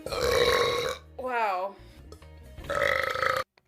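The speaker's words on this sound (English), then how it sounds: "Who is making these girl burp videos?" A girl burps loudly, two long drawn-out belches with a brief spoken word between them, close and dry.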